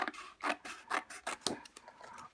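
Card being cut square for a homemade box, a run of about six short rasping cutting strokes in a steady rhythm, close and fairly quiet with no talk.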